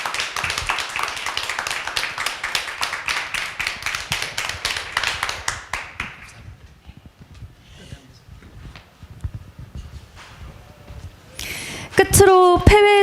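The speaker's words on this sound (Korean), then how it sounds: "지금까지 주셨던 박수보다 더 힘찬 박수 부탁드립니다" Dense, enthusiastic applause from a sizeable lecture audience rolls for several seconds, fades into quiet murmurs, then a brief musical flourish plays.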